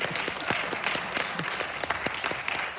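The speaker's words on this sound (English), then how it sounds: "Round of applause, please." Audience at a Black History Month program applauding, a steady, fairly close wash of many clapping hands with sharp individual claps throughout.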